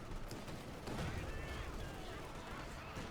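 Gunfire and explosions rattle continuously through a Company of Heroes 2 battle, dense crackling volleys with a heavier burst near the middle, while a voice talks underneath.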